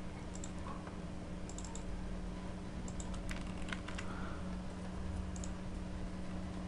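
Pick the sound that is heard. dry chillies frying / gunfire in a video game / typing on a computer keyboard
typing on a computer keyboard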